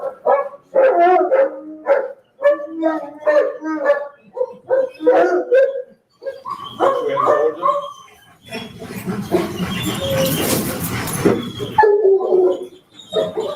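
Police K-9 dogs bark, yip and whimper in short bursts at a sheriff's office recertification graduation. The dog sounds mix with nearby people talking, and a loud, noisy stretch comes near the end.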